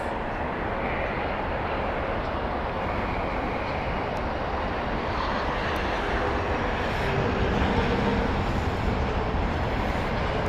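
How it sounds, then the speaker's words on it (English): A Bombardier Challenger 604 private jet at Heathrow Airport produces a steady, loud broadband engine roar that swells slightly toward the end, continuous with no talk. "It's a Bombardier Challenger."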